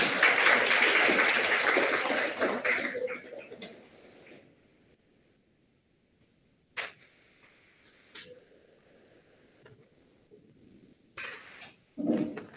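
At a university undergraduate research awards ceremony, an audience claps loudly for about three seconds, then the applause dies away, leaving near silence broken by a few scattered thumps and brief sounds.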